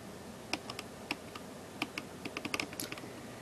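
Keys clatter on a faulty Dell Latitude D520 laptop keyboard in a quiet room, with about a dozen light, irregular clicks and taps close by.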